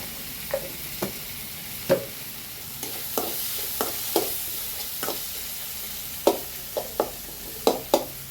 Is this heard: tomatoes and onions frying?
yes